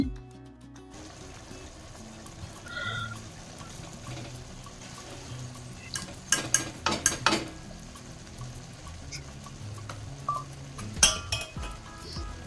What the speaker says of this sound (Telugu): ఆ రైస్ కూడా వేసేసుకోవాలి ఇందులో యాడ్ చేసేసుకొని ఒకసారి కలుపుకోవాలి మొత్తం రైస్ యాడ్ చేసేసుకొని